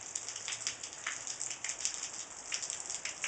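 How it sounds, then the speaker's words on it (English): Rain falls in a steady, bright patter of drops close at hand, with scattered louder splashes standing out against a continuous wet hiss and no voices. "It's raining, Carly."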